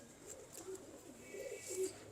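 Pigeons at a breeder's loft give soft, low cooing phrases that repeat over about two seconds, fairly close and gentle, with faint chirps higher up and no one talking.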